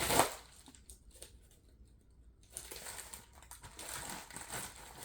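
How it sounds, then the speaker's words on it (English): Plastic packaging around a pair of Clover 36-inch knitting needles crinkles and tears as it is opened, a sharp rustle at the start, a brief lull, then a longer stretch of scratchy crinkling close by with no talk. "Here's my package, and I'm going to open it up."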